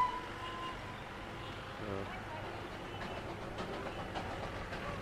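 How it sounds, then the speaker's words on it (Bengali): The Darjeeling toy train rumbles by overhead at Batasia Loop with a muffled continuous mechanical drone and faint rhythmic clatter that grows slightly busier toward the end, heard at a distance among the crowd. "এই টয় ট্রেনটা উপর দিয়ে যাচ্ছে।"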